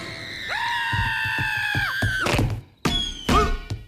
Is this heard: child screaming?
yes